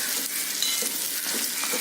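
Finely chopped orange peel sautéing in a pan, a close, continuous soft sizzle with light stirring scrapes throughout, no voices.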